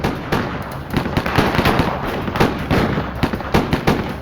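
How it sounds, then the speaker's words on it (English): Gunfire traded between police, FBI agents and a fugitive cop killer, a dense, steady run of loud sharp cracks and pops that keeps going for several seconds. "While police and agents traded fire with the cop killer, Bammel remained hidden from McClane."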